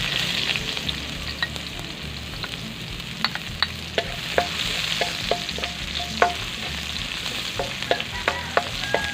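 Garlic and onion sautéing in a pan with steady oil sizzle, punctuated by repeated clicks and scrapes of a utensil stirring through the pan, close and moderately loud with no talking.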